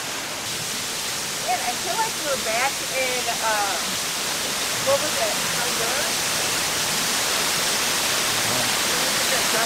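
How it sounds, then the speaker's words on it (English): Constant rushing roar of a waterfall at Busch Gardens Tampa, Florida fills the scene, with brief bird-like chirps and faint voices early on. "the sound of the waterfall"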